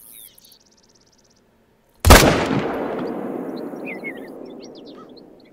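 A single loud rifle gunshot from a big-game hunting game, theHunter: Call of the Wild, cracks sharply and rolls into a long fading echo, with faint birdsong around it.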